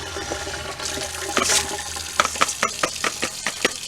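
Rice rinsed under running water in a strainer while preparing mushroom risotto: steady splashing and trickling, with a burst of sharper sloshing and then a run of quick spattering bursts near the end. No talking.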